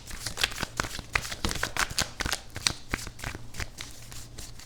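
Tarot cards being shuffled and drawn by hand, a steady run of quick papery riffles and flicks close up, with no talking.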